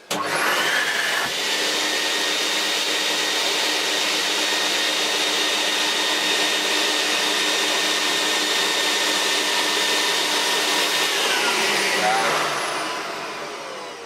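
Vax 121 carpet washer running on carpet, a loud steady vacuum whine with a high motor tone that starts abruptly and winds down near the end.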